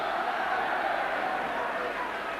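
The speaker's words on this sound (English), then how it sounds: "they are cheering every tackle now, the Hull Kingston Rovers fans" Hull Kingston Rovers fans cheering at a 2006 rugby league Challenge Cup match against Warrington, a constant broad stadium roar from a large distant crowd, unbroken and fairly loud.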